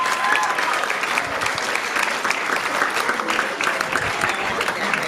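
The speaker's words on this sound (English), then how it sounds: "Give her some applause." A magic-show crowd in a Chicago lounge applauds a volunteer, a thick, steady roar of clapping that holds at an even level throughout.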